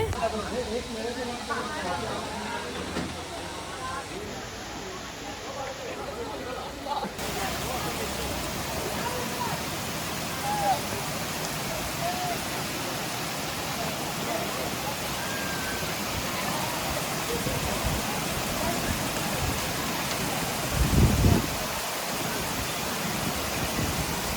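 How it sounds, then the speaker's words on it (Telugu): A steady, dense rush of a waterfall in the rain at Lonavala fills the whole stretch, loud and unbroken, with voices faintly under it and a brief louder burst near the end. "వాటర్ ఫాల్లో ఉన్నాం"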